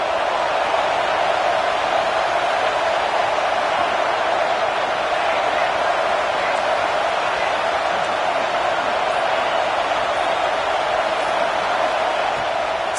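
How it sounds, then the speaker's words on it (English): A large college football stadium crowd roaring as a dense, steady wash of noise, loud and continuous for the whole stretch, with a commentator talking over it. "this crowd trying to help keep them there."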